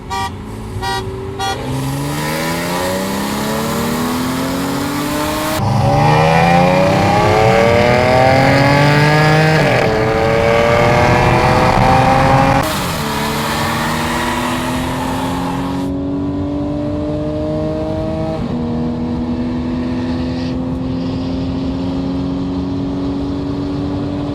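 A BMW 335i and an Audi S5 V6 turbo with a downpipe accelerate hard in a race from second gear, engines climbing through gears with repeated rising whines and shifts, loud and close, no talking.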